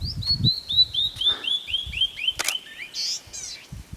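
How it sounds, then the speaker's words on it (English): A small bird sings in Santa Elena Canyon: a rapid series of about a dozen high, sweet chirps, close and clear, followed by a few buzzy trills, over faint wind and light rustling. "There's a little bird right there that's making all the racket."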